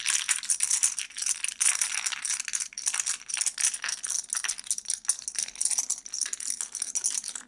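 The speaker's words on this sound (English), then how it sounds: "put them in the bag, and listen to the smooth, happy sounds of chips clicking together" Plastic board game chips rattle and click together inside a bag, a continuous jumble of bright, close clacks in irregular bursts with no voices.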